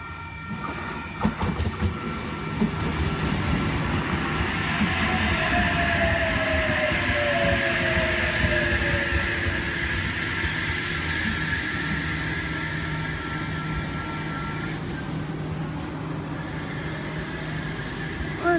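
A Sydney Trains Oscar set (H13) passes through Wondabyne Station, New South Wales, with a continuous loud rumble and rattling wheels, a squealing tone rising and falling along the way.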